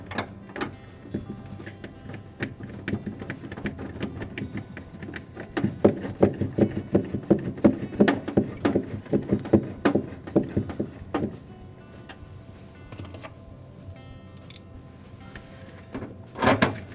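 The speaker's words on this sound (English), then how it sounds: "We'll replace the 4 screws that hold that evaporator cover." Screws being driven into the evaporator cover of a Maytag refrigerator, a powered driver whirring in short repeated bursts with ticks and clicks, busiest in the middle and fading to quieter handling sounds.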